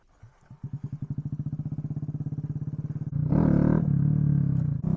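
A small motorcycle, a Kawasaki Z125 Pro or SSR Razkull, putters with a rapid, even engine pulse close by, then revs up into a louder, rougher roar toward the end.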